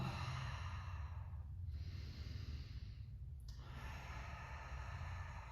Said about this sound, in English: Open the mouth on the exhales, relax the jaw.